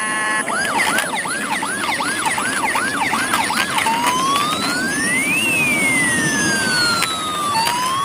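An ambulance siren wails, first in a rapid yelping pattern and then in long rising and falling sweeps, loud and continuous with no talking.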